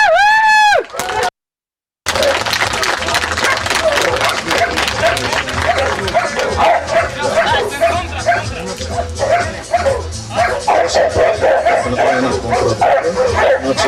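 A dog barks and yips repeatedly and loudly during an attack training demonstration in Bulgaria, with a voice talking over the rapid, rhythmic barking after a brief gap.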